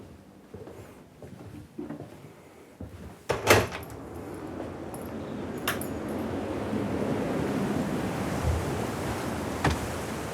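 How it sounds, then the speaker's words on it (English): Blustery wind rushing through an English back garden in March, a broad rising roar that swells and holds, with a few knocks and rattles early on, fairly close with no talking. "As you can hear, it's quite a blustery day today, but it's gorgeous."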